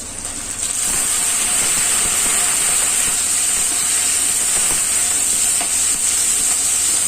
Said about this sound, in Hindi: अब इसमें हम डालेंगे पिसा हुआ प्याज